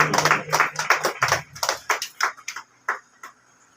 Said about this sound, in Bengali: প্রত্যেকে হাততালি দিয়ে উৎসাহিত করবেন।